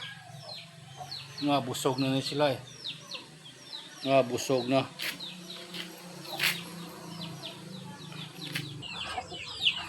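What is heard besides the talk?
chickens clucking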